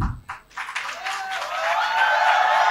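An audience clapping at a student speaking competition, starting after a brief voice and swelling into a steady, building round of applause that grows louder toward the end.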